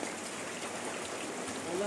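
Steady rain falls outdoors around a red chicken standing out in the downpour, a soft, continuous hiss of drops with no distinct individual splashes.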